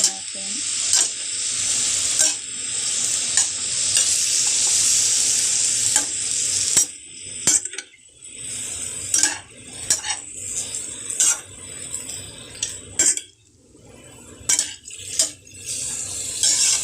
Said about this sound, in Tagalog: So, kaya haluin lang natin.